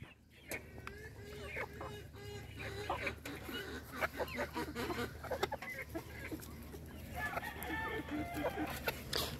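Turkeys and chicks feeding from dishes on a Mexican farm, a busy mix of soft clucks, peeps and gobbling calls with pecking clatter, steady and close, with a person's voice talking in the background.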